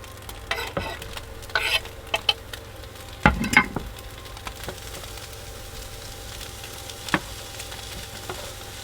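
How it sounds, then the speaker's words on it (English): Bacon frying in a pan inside an off-grid camper van, a soft continuous sizzle broken by occasional stirring scrapes and clatters, one louder knock partway through, no voices. "we had to cook all the bacon today"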